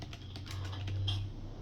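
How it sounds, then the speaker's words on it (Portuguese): Keys click on a computer keyboard in a quiet room, a short run of light typing strokes ending with the Enter key, close and moderately loud with no talking. "Deixa eu dar um enter certinho."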